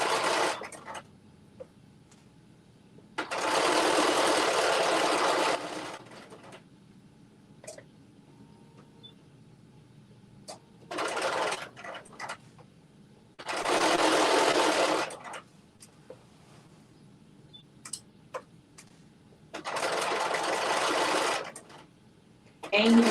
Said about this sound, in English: when you are sewing.